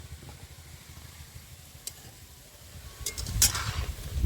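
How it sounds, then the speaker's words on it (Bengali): Moringa flower fritters frying in oil at home, a low, faint sizzle that swells near the end, joined by a few sharp clicks and scrapes from the pan. "এই আমার কিন্তু ভাজা হয়ে গেছে বড়াটা।"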